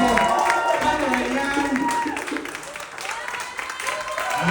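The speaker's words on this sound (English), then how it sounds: "let's keep the applause going" Sustained audience applause after a pro-am smooth waltz ballroom dance performance, steady and fairly loud, with an announcer speaking over the clapping.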